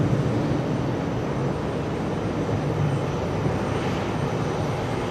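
A large airliner on the runway at JFK Airport gives a steady, broad engine roar, loud and continuous with no break, heard without speech.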